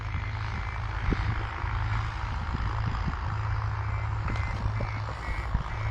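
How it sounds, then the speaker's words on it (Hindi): A tractor driving at full speed across standing crops in an open field, its steady engine drone loud and continuous throughout with scattered rattles and thumps, no one speaking. "किस तरीके से ट्रैक्टर आप देख पा रहे हैं फुल स्पीड पे और खड़ी फसलों के ऊपर चल रहे हैं।"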